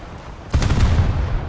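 Italian warship guns in a naval battle game fire a single heavy, booming salvo that rolls on in a deep rumble. It rises out of a low background hum.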